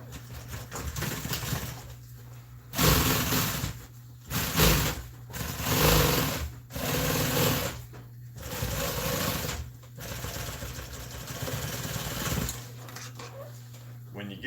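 Sewing machine stitching a seam on scrap upholstery material for custom Polaris seats, running in several whirring bursts with short pauses between them, close by, while someone talks over it.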